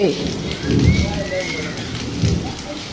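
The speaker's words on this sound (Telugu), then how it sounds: "వర్షం తడకండి రండి" Heavy rain patters steadily during a thunderstorm, close and fairly loud, with a few low rumbling thumps and voices talking faintly underneath.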